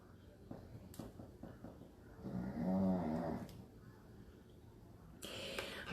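A dog snores in one long, rumbling, drawn-out breath, fairly near and soft, between quieter stretches of room noise and faint background voices.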